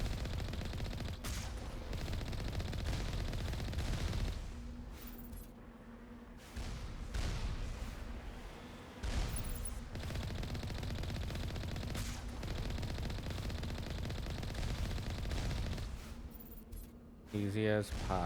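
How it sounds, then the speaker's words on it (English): Turret gunfire in the video game Mass Effect Legendary Edition: sustained bursts of rapid shots and booms fill most of the stretch, broken by short pauses, with game effects layered throughout. "there's a lot of turrets aiming at you"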